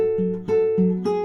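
Guitar strums the chorus chords of a song, a few steady strokes of sustained ringing chords with a changing bass note, close and clear with no talk.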